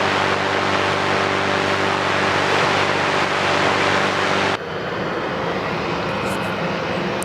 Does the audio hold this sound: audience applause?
no